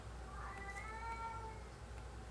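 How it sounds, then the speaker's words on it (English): A male house cat whines with a single drawn-out, wavering meow, faint and alone over a low background hum indoors. "So I'm sorry if you hear my cat, he just has to poop."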